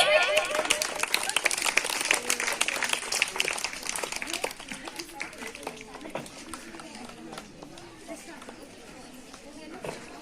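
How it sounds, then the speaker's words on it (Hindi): An audience at a school Teachers' Day event claps in a dense, lively burst that slowly thins out, with chatter and some shuffling mixed in. "ताली"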